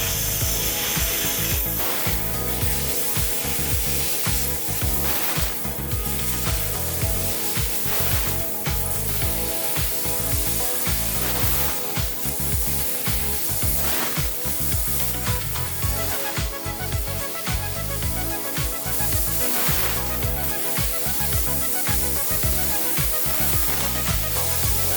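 A Haas HFL-3015 fiber laser cutting machine runs a cut, producing a sustained, loud rhythmic rasping and hissing with repeated pulsing bursts throughout, close and without talk.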